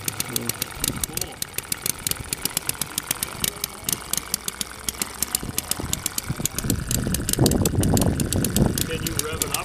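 A small single-cylinder show engine idling at a car show, a steady rapid putter of evenly spaced firing pulses throughout, close and loud, with people talking over it.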